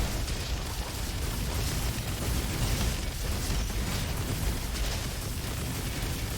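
Dense, continuous rumbling blasts and bursts fill a combat scene in a video game, loud and sustained with no pauses and no talking.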